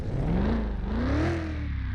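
A BMW car engine in a driving video game revs steadily, its pitch sweeping up and dipping back over a continuous loud whir with no pauses.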